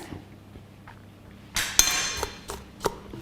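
A spatula or spoon scraping madeira cake batter down the sides of a mixing bowl, heard as a few soft scrapes followed by several sharp clinks against the bowl, close and fairly quiet.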